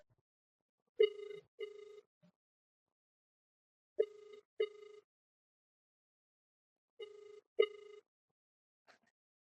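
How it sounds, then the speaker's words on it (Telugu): A telephone ringing, heard during a prank call to a wife. Three separate double-pulse rings come about three seconds apart, clear and close in otherwise quiet surroundings, with no talking. "ఫోన్ చేస్తాను ఇప్పుడు."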